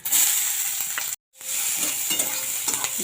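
Chopped onion with cardamom, cinnamon, bay leaf, nigella seeds and cumin fries in oil in a pan, giving a close, steady sizzle with stirring scrapes and one brief silent gap.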